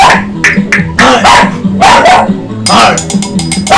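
A dog barks in loud, sharp, repeated bursts close by while a person shouts over it.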